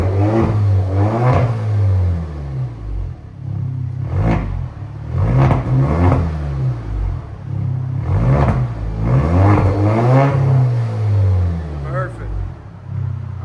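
A 2020 Alfa Romeo Stelvio with straight-pipe exhaust revs loudly and repeatedly, each burst of engine roar rising and falling in close succession, with people talking between the revs.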